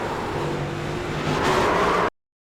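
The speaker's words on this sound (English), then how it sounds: "I heard him rev it up." Race car engine in a racing video game at the Indianapolis Brickyard, a steady loud droning whine that swells slightly as revs rise before cutting off abruptly.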